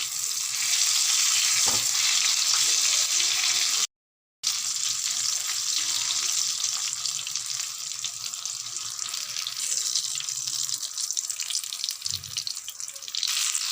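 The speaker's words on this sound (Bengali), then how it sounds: "আমার শিমগুলো কিন্তু ভাজা হওয়ার মতো হলে সব ফুলে ফুলে উঠছে দেখো" Stuffed flat beans frying in oil in a home kitchen pan, a loud steady sizzle lasting throughout with a brief cut partway and occasional low knocks, close up, with no voices.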